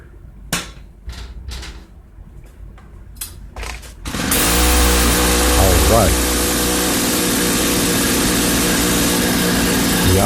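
A 1995 Artisan Earthquake auger's small gas engine stands with a few sharp clanks and knocks, then catches and runs at a steady, loud, fast idle, since its idle speed is set too high.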